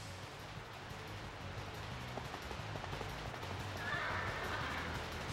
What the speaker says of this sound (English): Way to go, horse, cross that bridge.